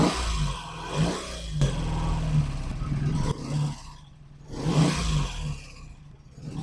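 Old car engine with a JB Welded gas tank and ignition bypass idles and is revved a few times, swelling and falling in rough bursts, moderately close with no talking.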